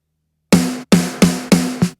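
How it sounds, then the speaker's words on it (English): A gated snare drum sample from a metal mix cracks five times in quick succession after a brief silence, each hit loud and bright with a short ringing tone cut off sharply, heard alone. "Snare drum sounds like this."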